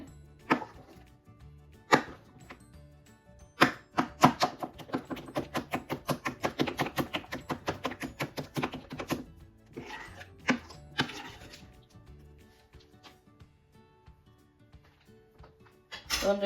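Rapid knife chopping of potatoes and other ingredients for aloo chop on a cutting board, bursts of steady rhythmic strokes gathering into a fast run in the middle, then a few scattered cuts, close and fairly loud with no talk.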